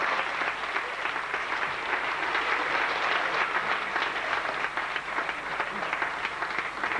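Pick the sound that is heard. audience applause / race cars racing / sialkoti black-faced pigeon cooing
audience applause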